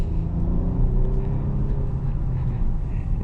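A 2024 Lexus ES 350 pulls ahead under smooth acceleration in first gear, its engine rising in a low, steady hum blended with road rumble, heard from inside the cabin.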